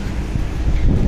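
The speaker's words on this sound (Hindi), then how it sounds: "बहुत ज़्यादा तेज़ हवा चल रही है" Strong wind buffets an outdoor microphone in the UK, a steady low rumbling roar that continues without a break and swells slightly toward the end, with no talk over it.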